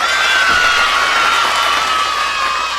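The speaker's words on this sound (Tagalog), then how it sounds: "Maraming pumalakpak doon sa nagawa nyong husay na trabaho nyo" A crowd applauds and cheers loudly and steadily throughout, a continuous wash of clapping and shouting voices with no talk, honoring officials on a Filipino public-affairs program.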